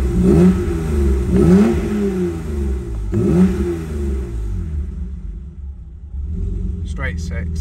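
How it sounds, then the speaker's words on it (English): A BMW E30 325i straight-six rumbles at a low idle of about 700–750 RPM, swelling in several short revs before settling back. Someone talks over the engine near the end. "Straight 6, beautiful sounding car."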